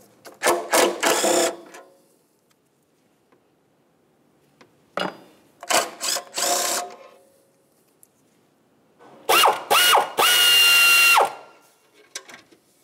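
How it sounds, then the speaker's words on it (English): A ratchet with a 12 millimeter socket works in several separate bursts of fast clicking, removing exhaust manifold heat shield bolts on a 2009-2010 Pontiac, close, with quiet gaps between the bursts. "We're going to continue using a 12 millimeter to remove each of our mounting bolts."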